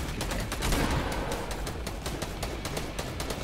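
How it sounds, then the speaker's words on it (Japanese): Rapid gunfire from Fortnite gameplay in a duo tournament match, a dense rattle of repeated shots running steadily throughout at even loudness. "撃つわ"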